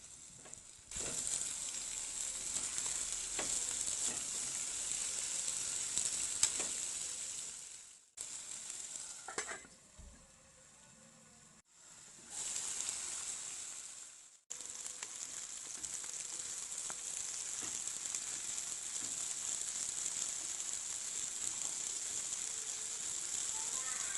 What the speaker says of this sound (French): J'ajoute de l'huile végétale, je les laisse cuire pendant environ 10 minutes sur feu moyen.